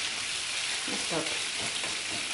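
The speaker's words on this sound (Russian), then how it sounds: "И слегка-слегка обжариваю." Steady frying sizzle from peppers and onion in a hot pan, continuous broadband hiss with a brief spoken remark over it.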